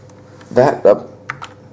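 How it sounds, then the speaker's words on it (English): A few quick keystrokes on a Logitech G710+ mechanical gaming keyboard, soft clicky taps up close, mixed with brief vocal sounds. "it's not the loudest mechanical keyboard out there"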